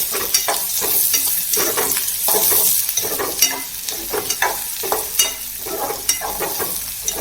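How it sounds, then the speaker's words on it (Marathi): Green chili, garlic cloves and ginger sauté in hot oil for a Malvani chicken curry, a steady close sizzle broken by repeated scraping stirs of a spoon against the pan, with no voices. "या स्टेजवर आपण थोडी मिरची आणि लसणाच्या पाकळ्या घेऊयात, आणि अद्रक हे घालून आपण चांगलं परतून घेऊयात"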